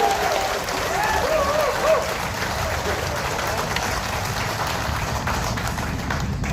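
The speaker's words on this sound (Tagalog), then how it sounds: "isang mainit na palakpak bilang pasalamat sa MMDA family" Warm applause from a crowd at a public gathering in Pandacan, Manila, a dense, steady wash of clapping that holds at full strength for the whole stretch.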